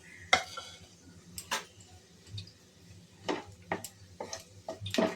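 Whole cumin seeds, dried red chillies and bay leaf tempering in hot oil, with a low sizzle under a series of sharp clinks and scrapes from stirring in the pan.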